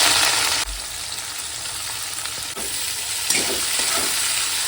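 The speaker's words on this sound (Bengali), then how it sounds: "এবারে দিয়ে দেবো কুচিয়ে রাখা পেঁয়াজ" Chopped onion hits hot oil already spiced with cinnamon and cardamom, bursting into a loud, continuous close-up sizzle with occasional stirring clatters from the spoon.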